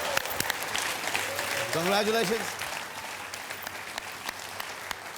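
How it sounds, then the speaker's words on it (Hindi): A studio audience at a television game show claps in a steady wash of applause for several seconds, with a voice speaking briefly over it before the clapping thins out. "तालियां, सुपर"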